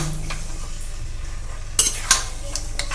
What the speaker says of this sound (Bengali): তেলেতে দিয়ে দিয়েছি সমস্ত চিকেনটা। আমি কিন্তু লো আঁচে এটাকে ভেজে নিচ্ছি।